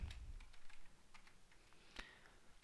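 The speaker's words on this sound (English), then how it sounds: "now we type mkdir N" Quiet, close keystrokes on a computer keyboard as a command is entered, a quick irregular run of about a dozen light clicks with one slightly harder tap near the end, with no talking.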